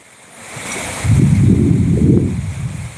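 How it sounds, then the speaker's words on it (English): Rushing floodwater in Southern Ohio roars like a waterfall, a dense low rumble that swells after the first second and holds steady, mixed with wind buffeting the microphone, no voices. "Sounds like a waterfall."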